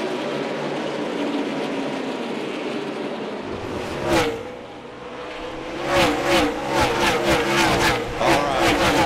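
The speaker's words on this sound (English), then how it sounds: "Boy, Chase Elliott jumped in the throttle right there off the turn four." NASCAR stock cars at Martinsville accelerating hard off turn four at night, a loud engine roar that surges and swells as several cars pass close in a rhythmic series.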